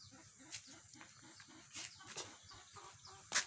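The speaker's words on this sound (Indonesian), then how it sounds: "Ini jago putih ini." A white rooster at a rural Indonesian farm with ducks clucks in steady low repeated notes, joined by a few sharper calls and other farm birds in the background.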